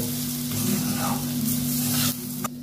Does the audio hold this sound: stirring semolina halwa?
yes